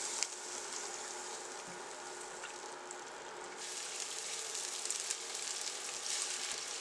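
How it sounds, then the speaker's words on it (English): Garlic, chopped onion and diced carrots sauté in a pan with a steady, close hiss of frying, a few faint clicks and stirring sounds rising slightly toward the end. "1 teaspoon of garlic, 1 cup of chopped onion, 3/4 cup of diced carrots, and we're going to saute."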